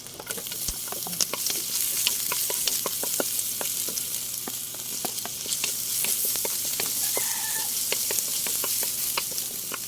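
Garlic sautéing in a pan, a constant close sizzle with quick crackling pops and frequent stirring scrapes throughout, no voices.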